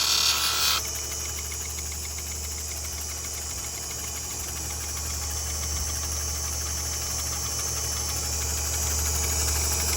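A lapidary machine works an opal stone with a steady hum and grinding drone that sounds close and even throughout.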